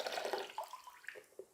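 Water being poured for a foot bath, a bright splashing stream that gurgles and trickles in short uneven bursts, close by.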